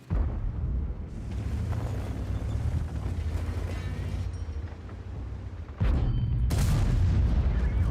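A tank shell ricochets off armour in World of Tanks: a heavy metallic boom followed by rumbling, then a second sharp impact near the end, loud and close over continuous engine and battle noise.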